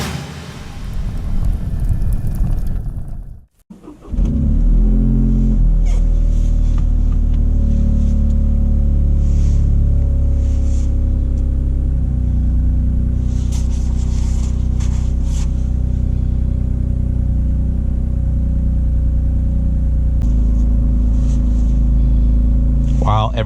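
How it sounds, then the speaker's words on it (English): A 2023 Toyota GR Corolla is started after a brief pause: the engine cranks and catches, then settles into a loud, steady low idle rumble while it warms up. A person talks near the beginning, before the start. "So let's get the car started, warmed up, and go for a drive."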